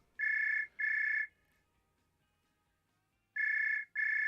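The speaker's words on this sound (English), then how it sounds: "we have a phone call coming in" Electronic phone ringtone for an incoming call, two paired bursts of a bright warbling tone separated by a pause, clear and alone.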